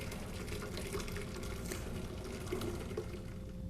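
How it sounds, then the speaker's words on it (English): Excess water is dumped out from a pot of eggs, pouring steadily in a continuous splashing rush, close and fairly quiet, with no talking. "First thing is just dump out the excess water."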